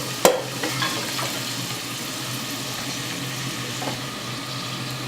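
Green pepper and carrots fry in a hot pan, a steady sizzling hiss with a few clinks and scrapes of stirring near the start and faint stirring later, no voices.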